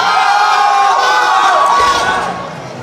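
A large crowd cheers and shouts loudly for a powerlifter at a national competition in the Philippines, a sustained roar of voices that fades slightly at the end.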